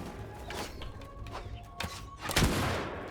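Gunfire in the Bannerlord Shokuho mod set in feudal Japan, several short cracks and thumps scattered over a few seconds, with a louder shot near the end over a low battlefield din.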